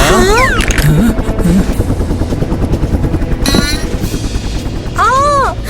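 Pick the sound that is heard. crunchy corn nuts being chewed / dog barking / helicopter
helicopter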